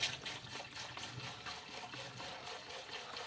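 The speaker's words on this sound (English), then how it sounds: "then fill it up with water" Water pours into an ultrasonic cleaner tank being filled with a cleaning solution, a close, quiet trickling and splashing stream that runs continuously with slight rhythmic surges.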